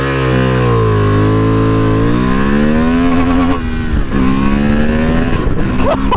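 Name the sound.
motorbike launch accelerating with traction control off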